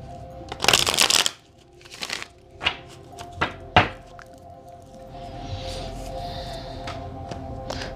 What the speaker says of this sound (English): Somehow I never seem to cut this deck, you know.